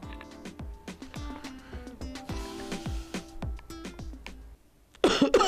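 A man coughs repeatedly, with a string of sharp, close coughs spread over several seconds. A short burst of louder noise follows at the end.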